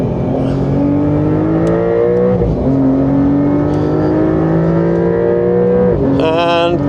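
A car lapping a race track on Michelin Pilot Sport tyres, heard from inside as the engine loudly climbs in pitch through the gears, with distinct shift dips and a final lift off the throttle.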